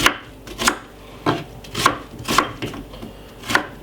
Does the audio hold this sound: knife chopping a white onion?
yes